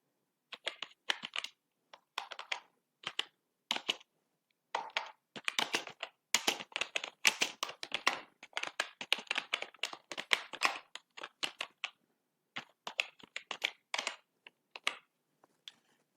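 Keys on a computer keyboard clatter in irregular bursts as code is typed, close and crisp, with short pauses between runs of keystrokes and no talking.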